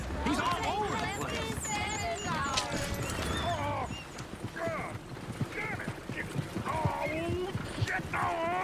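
Horses galloping in the Red Dead Redemption 2 video game, a quick clip-clop of hooves running under loud overlapping dialogue from several characters, with a whinny and other game sounds mixed in.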